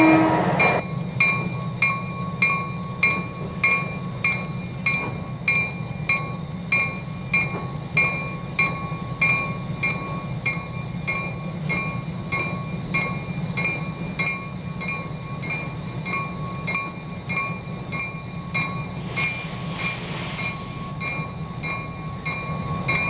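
A locomotive creeping across a roundhouse turntable, a steady low rumble with regular rhythmic clanks and metallic creaks throughout, plus a brief hiss of air near the end.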